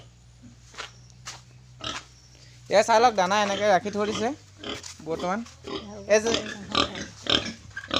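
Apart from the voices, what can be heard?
pigs grunting on a pig farm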